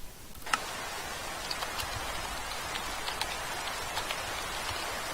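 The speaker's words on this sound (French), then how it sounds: "Et il pleut." Steady video game rain patters continuously, a dense hiss of drops with occasional sharper ticks, even and unbroken throughout.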